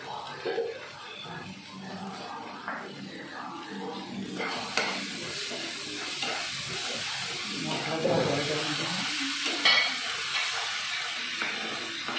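Spice paste sizzles and hisses in a pan while being stirred, with occasional scraping bursts and a person talking over the cooking.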